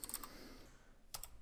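Quiet computer keyboard typing while entering Python code: a quick cluster of clicky keystrokes at the start, a lull, then another short burst near the end, close and faint with no voices.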